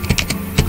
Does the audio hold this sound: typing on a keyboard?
yes